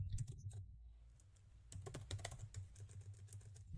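Typing on a computer keyboard: quick, irregular bursts of soft key clicks, close and quiet, with a short pause in the middle before the tapping resumes.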